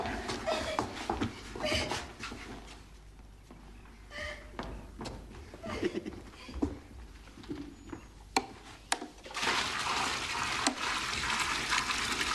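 Water is poured into a bath, heard as splashing and trickling with uneven bursts, bumps and shuffling movement. It is moderately close and fairly quiet, and it grows into a fuller rush toward the end.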